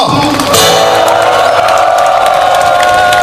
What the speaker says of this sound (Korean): 우리 모두를 위해서 큰 박수 부탁드립니다